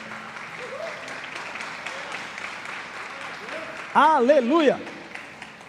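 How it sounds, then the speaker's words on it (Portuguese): A church congregation applauds during a sermon, a steady mid-level wash of clapping running beneath a preacher's voice, swelling louder near the end as a shouted exclamation rises over it. "Você pode aplaudir a esse Deus de Israel?"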